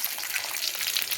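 Tamarind and tomato sauté in hot oil, a brief, continuous bright sizzle with fine crackling and no pauses.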